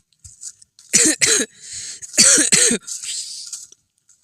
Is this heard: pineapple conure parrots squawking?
no